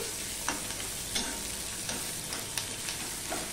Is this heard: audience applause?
no